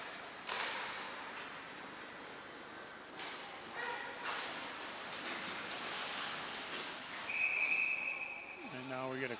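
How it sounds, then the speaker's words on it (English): A referee's whistle gives one short, bright blast near the end of an ice hockey scrimmage between Wild Blue and White teams, rising over steady arena crowd and rink noise. "And now we get a quick whistle."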